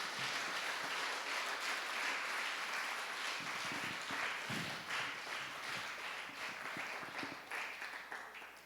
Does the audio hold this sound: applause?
yes